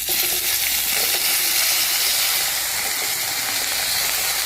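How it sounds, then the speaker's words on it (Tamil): Onion drops into hot oil already crackling with curry leaves and asafoetida for kara chutney, making a dense, loud, continuous sizzle close by with no talking. "ஸோ இப்போ வெங்காயத்தை போட்டுக்கலாம்."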